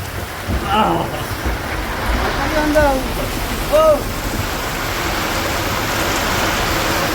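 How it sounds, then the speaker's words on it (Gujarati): Steady rain hisses down continuously, with a few brief voices breaking through faintly in the background. "અહીંયા આવીને છે ને ભાઈ ફૂલ વરસાદ ચાલુ થઈ ગયો છે"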